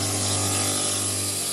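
Steady, continuous whirring and abrasive hiss of a grinder sanding down a 25 mm diameter metal piece, constant in level throughout.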